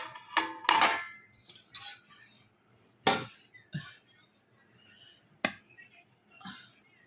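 A serving spoon scrapes and clinks against a plate and pot as cooked rice is dished out, a series of sharp close knocks and scrapes, with quiet gaps between them.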